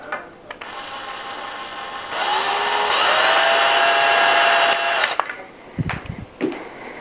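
A power drill driving a screw into a pre-drilled hole while building a plant and grow light stand, whirring steadily for several seconds with rising pitch, then stopping, followed by a few brief handling knocks.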